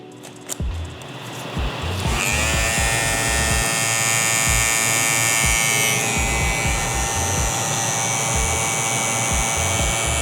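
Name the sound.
cordless hair clipper running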